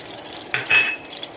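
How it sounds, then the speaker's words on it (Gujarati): Semolina roasting in hot ghee in a pan for almond sheera, a soft sizzle with a spoon scraping and stirring through it in a short close burst. "હવે સૂજી શેકાવા દઈશું"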